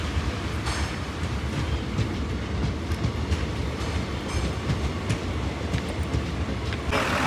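A train rumbles steadily at Varkala railway station in Kerala: a loud, continuous roar of wheels and carriages with faint metallic clatter, running unbroken throughout.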